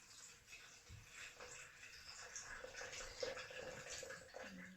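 Water poured into a homemade rain gauge packed with stones, a soft continuous trickle and splash, close and fairly quiet, with faint shuffling around it.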